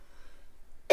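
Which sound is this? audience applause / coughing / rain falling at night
coughing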